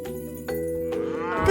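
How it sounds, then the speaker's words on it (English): A big friendly cartoon cow moos in a children's animal-sounds show: a long, sustained, tonal low moo with steady harmonics, rising slightly at the end, heard alone without talk. "A big friendly cow."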